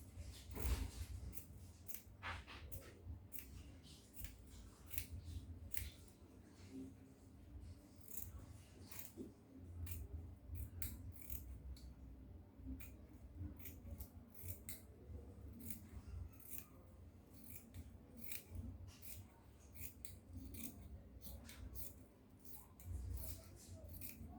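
Scissors cut fabric around a pattern piece for a wrap gown, giving a long run of crisp, close snips in an uneven rhythm, some in quick clusters, against a quiet background.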